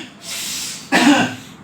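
A long inhaled breath through the nose, then one sharp, forceful cough right up close.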